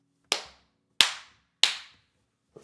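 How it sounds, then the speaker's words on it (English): Three single hand claps recorded through a DPA 4099 instrument microphone, each a sharp, loud crack with a short decaying tail, spaced apart in a quiet room. "Next, I'm going to clap through the DPA."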